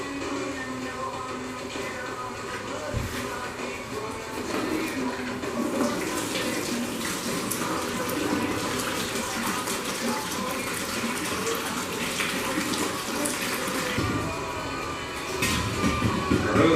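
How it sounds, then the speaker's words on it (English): Water pours and splashes continuously for a long stretch as a fluid extractor container is emptied, with occasional clunks and a steady rushing wash. "I'm going to go ahead and dump out the water I had put in there."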